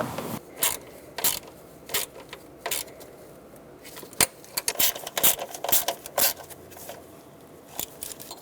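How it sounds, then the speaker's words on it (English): Ratcheting wrench snugging a bolt down on the intake manifold of a 1999-2016 Ford E-350 5.4L V8, quiet irregular clicks and metallic ticks scattered throughout, close by, with no talking. "You could also use a ratcheting wrench if you have something that fits down here."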